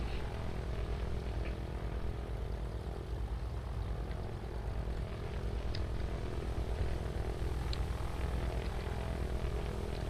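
A four- or six-cylinder piston advanced trainer aircraft engine runs in the DCS flight simulator, a steady, dense propeller drone holding constant volume with no voices.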